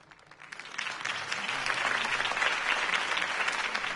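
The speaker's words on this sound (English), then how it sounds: "If only Mr. Wayne, my campaign's largest backer, could have heard that applause" Crowd applause at a political campaign rally in Batman: The Telltale Series swells from quieter clapping into a full, sustained ovation of many hands, heard on its own without voices.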